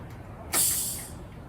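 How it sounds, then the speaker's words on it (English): A plastic bottle of Coca-Cola is twisted open, releasing one sharp, loud burst of fizzing hiss that swells quickly and then tapers off over about a second, close by and with no talk. "So let's open the bottle."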